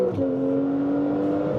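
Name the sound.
Porsche 991.2 Carrera accelerating in second gear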